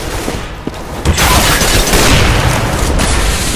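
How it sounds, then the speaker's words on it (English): A flashbang grenade goes off in Counter-Strike: Global Offensive, a sharp loud boom that gives way to a sustained hiss and ringing wash of noise lasting a few seconds, with faint clicks before the blast. "Throwing flashbang. Grenade out."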